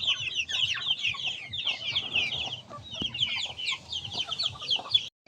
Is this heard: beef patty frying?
no